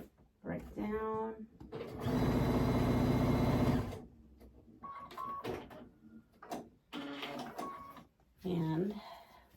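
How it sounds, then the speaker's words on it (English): A sewing machine joins quilt pieces in a two-second burst of fast, close mechanical whirring, set between stretches of a person talking. "we are going to put these two pieces together. And let's see. Yep. Sew that right down."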